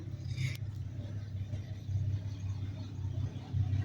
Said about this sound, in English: What kind of diesel's that just started, guys?